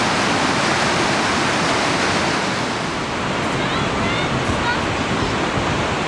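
Steady Brook Falls in Newfoundland and Labrador roars in a loud, unbroken rush of white water from close below the falls, with wind buffeting the microphone throughout.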